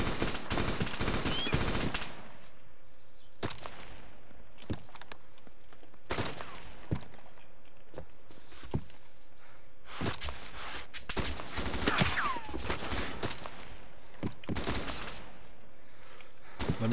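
Gunfire in the military shooter game Arma 2, loud bursts of shots at the start and then repeated single cracks and short volleys at varying distances, no talk.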